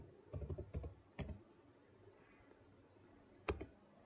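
Someone types an SQL command on a computer keyboard: a quick cluster of soft key clicks, a couple of isolated taps, then one firmer keystroke like a final key press, close and fairly quiet.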